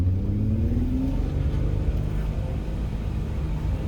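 A loud engine roars and rises in pitch as a race-prepared VW Golf with an R32 engine accelerates hard, a deep rumble and whine filling the cabin, which has no carpets.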